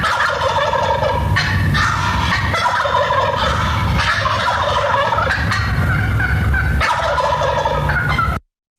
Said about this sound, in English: but just a straight gobble